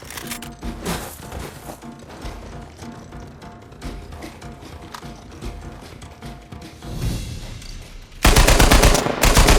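Sniper gunfire during a firefight in the video game Uncharted 4: sharp, scattered shots and mechanical clatter at moderate loudness, ending in a sudden loud, sustained burst of noise.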